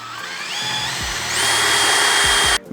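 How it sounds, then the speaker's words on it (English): A power drill with a 5/16 bit bores a pilot hole straight down to mount a stop stay bracket on a Mercedes Sprinter van, its motor whining and rising in pitch, then cutting off abruptly. "go ahead and drill straight down"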